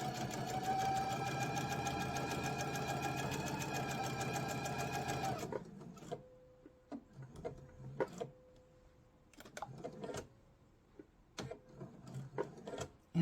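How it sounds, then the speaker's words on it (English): A sewing machine stitching fabric around a zipper for a bag, running loud and continuous for about five seconds, then stopping and giving way to scattered clicks and taps of handling. "I'm just going to sew this all the way around on that line"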